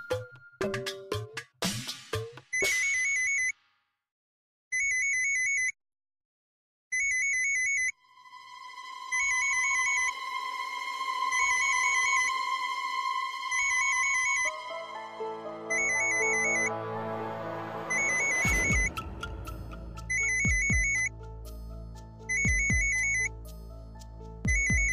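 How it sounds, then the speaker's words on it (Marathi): A mobile phone ringtone plays in repeated short chiming bursts separated by gaps, then gives way to a sustained musical ringtone melody that swells and continues to the end, clear and close with no speech. "हा मेला अनिल कशाला मला सारखा सारखा फोन करतोय देवास्तव"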